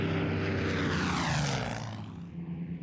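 A newly restored Hawker Hurricane fighter at a public display, its piston engine and propeller roaring loudly and steadily as it passes close, the pitch sweeping as it goes by.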